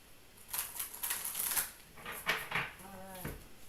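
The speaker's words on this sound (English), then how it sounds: "One more shuffle." Quick riffling clatter of cards being shuffled, a couple of short bursts close by, with soft handling noises between them and no talking.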